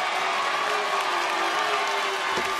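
NOAH pro wrestling fans in an arena applauding, a dense wash of crowd clapping and cheering, steady and fairly distant, with a commentator's voice and arena noise underneath.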